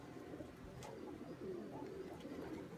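A pigeon cooing outdoors in strong wind, soft low repeated coos half buried under the steady rush of wind noise.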